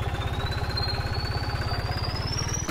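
A New Holland 3630 tractor engine in Farming Simulator 19 runs with a steady low rhythmic chug and a faint rising whine, continuous and close, with no talking.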